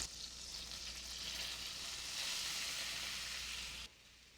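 Butter and all-purpose flour sizzle steadily in a pan while a roux forms, a close, even hiss that swells slightly before dropping off abruptly near the end.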